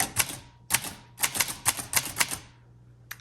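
Someone types on a 1948 Underwood Champion portable typewriter, close and crisp: bursts of sharp keystrokes with brief pauses between groups, then a last lone strike, with no talk.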